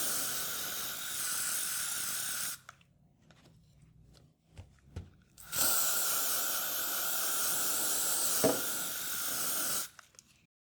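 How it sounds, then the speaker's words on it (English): Two long, steady hissing bursts of hairspray, each lasting a few seconds, separated by a quiet pause with faint handling noises, stiffening a crocheted flower. "you can spray it with hairspray or fabric stiffener"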